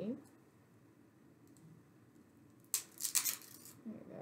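Papery yellow onion skin crackles and tears in a short burst of close, crisp rustling, preceded by a quiet stretch.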